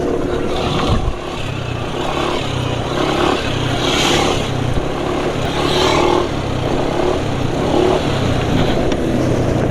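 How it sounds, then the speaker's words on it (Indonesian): A diesel engine idles roughly and loudly up close, with a steady low throbbing pulse and clattering mechanical knock running unbroken throughout. "Suara mesin ya sebenarnya nggak bisa dibilang halus ya. Suara mesin ono kasar-kasarnya."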